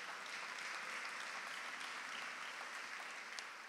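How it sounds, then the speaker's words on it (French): A congregation at a Sunday church service applauds loudly and steadily, a dense, even wash of clapping that fills the room without a break. "Est-ce qu'on peut acclamer très fort le Seigneur pour sa parole?"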